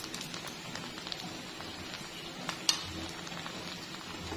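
Fenugreek seeds and green chilies fry in a pan with a soft, steady sizzle, marked by a few light clinks of a utensil against the cookware.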